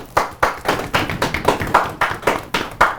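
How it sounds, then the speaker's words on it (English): Steady hand clapping on a podcast set, roughly a dozen sharp, evenly spaced claps at a brisk rhythm, close and fairly loud with no voices. "Clap it up."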